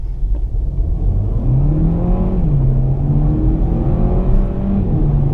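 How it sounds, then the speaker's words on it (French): Volkswagen Golf with a 1.5-litre TSI 150 hp engine and dual-clutch gearbox accelerating, a steady rising engine drone that dips briefly as it shifts gear and keeps climbing, heard from inside the car with no talk. "Donc on va voir un peu l'accélération."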